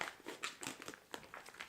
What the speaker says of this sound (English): we're just going to go ahead and cut this package open